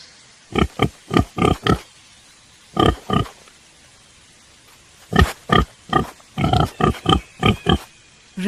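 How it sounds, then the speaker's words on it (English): A pig oinks and grunts in quick bursts of short, clipped snorts, several clusters separated by brief pauses, loud and close. "Pig."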